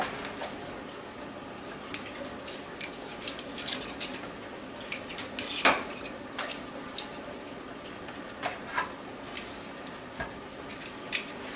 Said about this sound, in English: It's always fun cutting zucchini off the bottom of the paddle too.